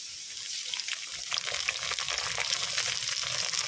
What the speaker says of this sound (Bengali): আলুটা একটু হালকা ভাজা হয়ে গেছে, এবার পেঁয়াজ দিয়ে দিলাম